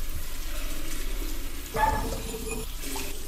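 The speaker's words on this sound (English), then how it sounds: "Turn off the water here." A tap runs in a restroom in a security guard night-shift horror game, giving a steady faint water hiss that swells briefly with a splashy burst partway through, then continues softly.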